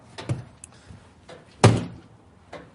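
A door slammed shut hard for a shock-load test, one sharp loud close bang standing out among a few lighter knocks and thuds in a quiet room.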